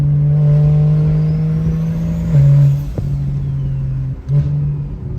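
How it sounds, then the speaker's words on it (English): Turbocharged car engine idling loudly up close, then revving in short bursts with throttle blips and a falling pitch between them, and the turbo whooshes as the revs drop. "Ready for these turbo noises?"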